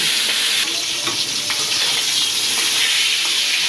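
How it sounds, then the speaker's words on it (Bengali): Two hilsa fish heads coated in turmeric and chili frying in hot oil, a loud, steady close sizzle with crackling spits throughout and no voices. "আমার মাছের মাথা ভাজা হয়ে গেছে"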